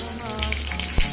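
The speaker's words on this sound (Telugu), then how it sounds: "పోపులు వేసుకోవాలి కొంచెం చిటపట్లు అయ్యేంత వరకు" Tempering spices crackle and splutter in hot oil in a home kitchen, a brief steady sizzle broken by one sharper pop.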